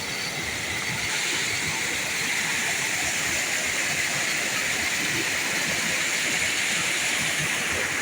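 Water rushes continuously along a hillside irrigation channel, a loud, steady broadband roar with no breaks.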